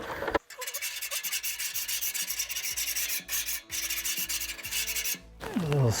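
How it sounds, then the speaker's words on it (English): A BBQ Daddy scrub brush scrapes back and forth across a grill heated to 300 degrees, giving a loud, steady, rhythmic rasp up close with a brief pause near the end. "A little scraping."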